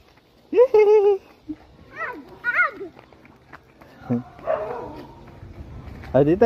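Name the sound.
dogs barking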